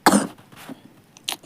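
A single sharp cough bursts out, followed by a softer breath and a brief second huff a moment later.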